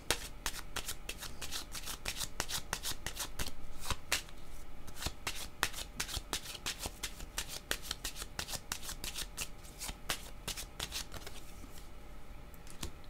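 A deck of tarot cards is cut and shuffled in a steady, rapid run of crisp riffling snaps that stays close and fairly loud, with no voices throughout.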